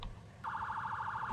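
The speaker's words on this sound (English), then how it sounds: "you should be able to hear the engine now and sirens now as well" A vehicle siren in Farming Simulator 19 starts abruptly and wails in a fast, regular warbling pattern, steady and fairly clear over a low engine rumble.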